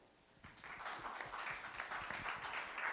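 An audience applauds at a venture capital panel event, a dense, steady patter of many hands clapping that swells quickly and holds, heard from within a fairly large room.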